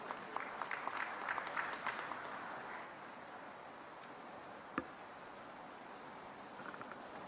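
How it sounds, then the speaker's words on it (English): Faint applause from a conference audience welcoming a Chief Minister at the India Chem 2024 exhibition opening, scattered clapping that thins out into a low, distant murmur, with one sharp knock near the end. "Let's all together welcome him with a thunderous round of applause"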